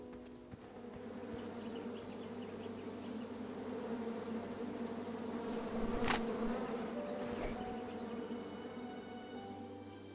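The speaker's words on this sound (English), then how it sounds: "Oh, where was that bee? Oh, the beehive was over here." Constant insect buzzing of a bee near a beehive in the video game King's Quest drones on for the whole stretch at moderate level, with no talking over it.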